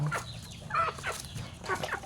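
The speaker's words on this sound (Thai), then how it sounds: "ไก่ตัวนี้ของเรา" A brown chicken with white-tipped legs clucks in short repeated bursts, about four calls in quick succession, fairly close and alone without speech.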